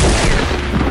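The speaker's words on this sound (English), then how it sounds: "Somebody up there is shooting at me?" Gunfire in the video game Fortnite, a dense, loud burst of rapid shots under a second long, close and without talk.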